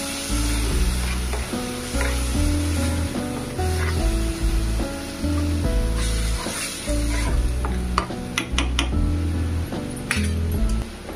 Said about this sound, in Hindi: अब इसमें जो है टमाटर का पेस्ट डाल देते हैं और इसको फिर अच्छे से भून लेते हैं